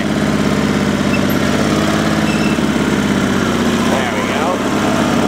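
The twin-cylinder engine of a Sears SS/16 Twin garden tractor, which smokes a bit under throttle, runs with a steady, loud, throbbing drone as the tractor is driven around a yard in third gear high range.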